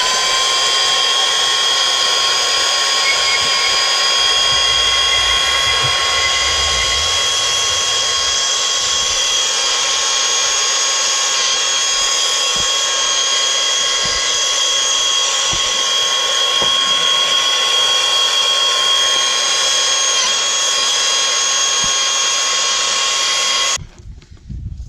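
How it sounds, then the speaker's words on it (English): Power saw cutting through a 4x4 wooden post for a field fence H brace, a loud continuous high whine and roar sustained for the whole stretch, then cutting off abruptly at the end. "you could do this with any kind of saw, as long as it'll cut all the way through"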